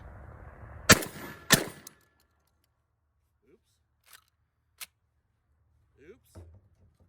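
Two loud, sharp shots from a VEPR-12 AK-style shotgun fitted with a silencer, about half a second apart, followed by fainter clicks and clanks of handling outdoors.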